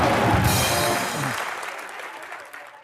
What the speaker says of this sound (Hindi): एक बार दीपिका अर्जुन के लिए जोरदार तालियां